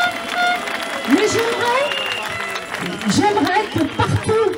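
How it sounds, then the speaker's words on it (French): Crowd at a political rally in Mulhouse applauds a retired metalworking union woman, a steady wash of clapping with scattered cheers and voices running throughout. "qu'on applaudisse cette dame"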